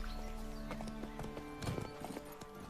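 Horse hooves clip-clop in the Eve Online video game, a quick run of distinct hoofbeats over tonal game music, with a faint voice in the background.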